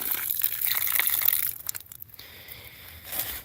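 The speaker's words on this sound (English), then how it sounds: "Look at that clear water." Water gushing from a newly drilled well pump, a loud rushing splash that breaks up into crunchy splatter and dripping before a softer, steadier flow returns.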